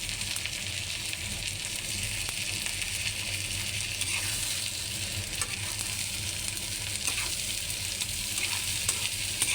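Prawns sizzle in hot oil with chopped onion and green chili, a steady close crackle and hiss with occasional stirring scrapes, no voices over it.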